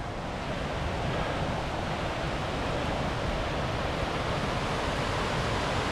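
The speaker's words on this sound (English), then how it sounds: "A bit of waterfall in there." Water rushes through a small gorge after heavy overnight rainfall, with a steady, loud, broadband roar of torrent and small waterfall that never breaks, with no voices.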